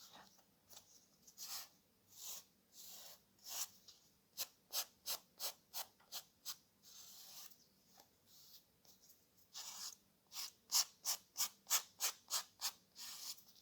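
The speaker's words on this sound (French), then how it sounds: "il suffit juste de limer un petit peu" A cardboard notepad edge being filed by hand, giving close, faint rasping strokes in irregular groups, some slow and drawn out, others quick and rhythmic.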